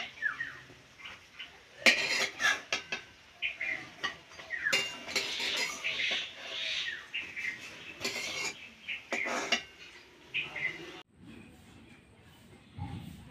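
Fried palta leaf fritters are lifted out of a frying pan with a metal utensil, giving scattered clinks and scrapes against the pan in an irregular rhythm, close and moderately loud, with no talking.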